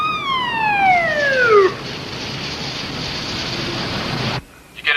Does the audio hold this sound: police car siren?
yes